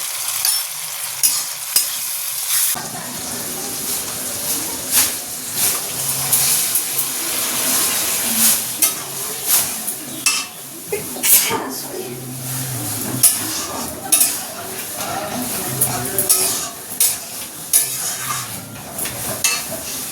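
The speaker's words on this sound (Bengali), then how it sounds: "একটু হালকা ফ্রাই করে নিই" Cumin and turmeric lightly fried in a pan in a Bengali home kitchen: a continuous sizzle broken by repeated scraping stirs and clinks of a spoon against the pan, close and fairly loud, with no talking.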